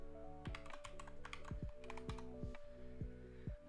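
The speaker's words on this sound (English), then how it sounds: "I will be typing the board name into that" Keys on a computer keyboard are typed in quick irregular clicks, faint and close, with steady keystrokes running alone throughout.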